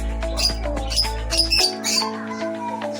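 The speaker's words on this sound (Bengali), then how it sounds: "সব রকম পায়রা আছে" Fancy-breed pigeons in a loft make squeaky chirps and flutters close by, over a low steady hum that cuts off partway through.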